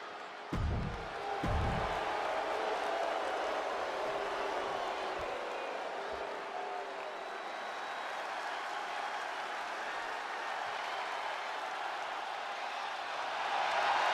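Wrestling arena crowd in WWE 2K25 roars with steady cheering and applause for the whole stretch, a dense continuous wash with a few low thumps early on, swelling slightly at the end.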